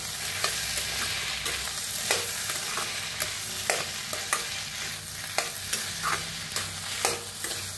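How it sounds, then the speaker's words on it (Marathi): A spoon scrapes and stirs a sizzling potato bhaji mixture with sugar and chopped coriander in a hot pan, producing steady frying hiss with repeated clinks and scrapes in an irregular rhythm, close and clear, no talk. "आता भाजीला मिक्स करूया।"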